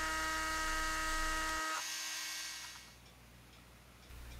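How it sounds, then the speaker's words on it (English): A rotary tool fitted with a diamond cutting wheel cuts through the roof of a model bus, giving a steady high-pitched motor whine that drops in pitch partway through as the blade bites, then settles into a softer grinding buzz. "I chucked up a diamond cutting wheel and used it to rid me of the pesky roof."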